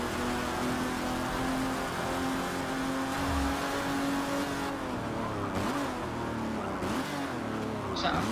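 A race car engine in Forza Motorsport 7 drones and revs continuously, with a higher whine rising and falling as it accelerates, loud and steady throughout with no voices.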